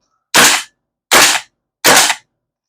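A Golden Eagle MC6591M airsoft gas blowback rifle running on 134A gas fires three sharp, loud, close single shots, evenly spaced about three-quarters of a second apart with silence between them.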